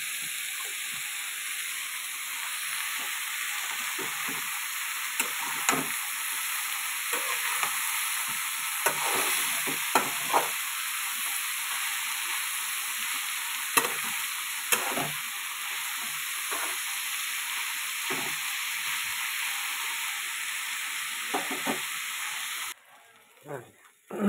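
Broad beans fry and sizzle steadily in a pan of garlic chili paste, a continuous hiss with occasional stirring scrapes and soft clatters throughout, no talking.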